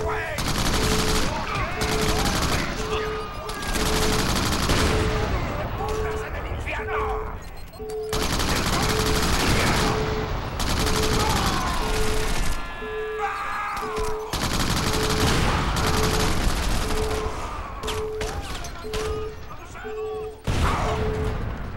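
Gunfire in Crackdown, repeated bursts of rapid automatic shots and loud volleys in clusters separated by brief lulls, with a steady tone and a voice talking over parts of it.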